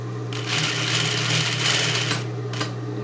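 Sewing machine running a steady stitch along a hem in fairly thick satin, a continuous close buzzing whir that starts, holds for about two seconds, stops, then gives one short final burst.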